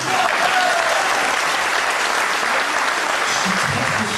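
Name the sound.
audience applause for the performer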